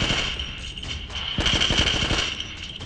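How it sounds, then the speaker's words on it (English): Video game gunfire as a zombie is shot: a burst of sharp, rapid shots clustered in the middle of the clip over a loud, steady game soundscape, with no speech. "You have a gun, so you shoot the zombie."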